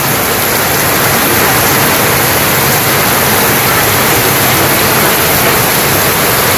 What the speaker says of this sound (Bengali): খুব বৃষ্টি নামছে,